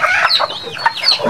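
Chickens on a farm cluck and squawk close by in quick, uneven bursts, several birds calling over each other with no talking.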